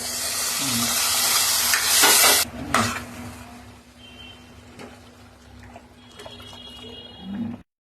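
Mutton goes into hot oil and masala with a loud hissing sizzle for a couple of seconds, then settles into a quieter, uneven frying crackle with a few pan clinks, and no one talks.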